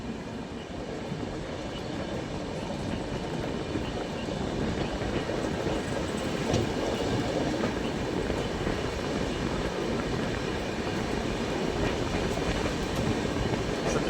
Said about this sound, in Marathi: तर आपली ट्रेन इथून निघाली, बघू शकता तुम्ही.